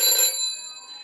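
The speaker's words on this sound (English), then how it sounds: "here's another thing, but it works. Granny's ringy ringy phone." Old-fashioned telephone with a mechanical bell, a bright metallic ring that starts loud and close, then decays into a fading shimmer over about a second.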